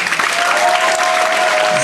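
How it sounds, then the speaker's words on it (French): A concert audience claps steadily in a dense, loud burst of applause with no pauses, a faint tone held underneath. "Cédric Lallemand, sous vos applaudissements."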